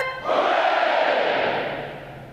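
Graduating Navy recruits at a boot camp ceremony roar a massed "hooray" in unison, a single loud sustained crowd shout that swells quickly and slowly tapers off.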